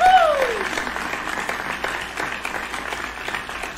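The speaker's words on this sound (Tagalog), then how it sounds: "Palakpak, palakpak." Applause from a small group during a live cooperative membership talk show, a steady patter of clapping under a brief rising tone at the start, moderately loud and close, lasting a few seconds.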